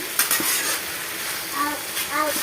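Chicken pieces seasoned with salt and chili powder, stirred in a hot pan and frying restaurant style, with steady close sizzling broken by the scrape and clink of a spoon against metal, no talking.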